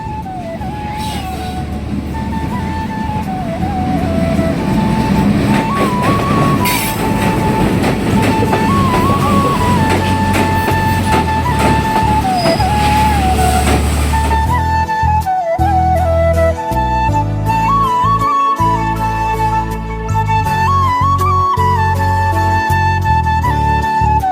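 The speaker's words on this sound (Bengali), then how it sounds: "সেই টাইমে দেখি একটা ট্রেন আসতেছে" A train arrives at Darshana Halt station, loud and close throughout, with a steady rumble, rhythmic clickety-clack of wheels over rail joints and a high sustained tone, growing harsher and more clattering in the second half.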